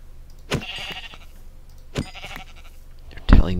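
Sheep in the Minecraft video game let out three short, sharp bleats spaced a second or more apart, clear and close, with the last one loudest.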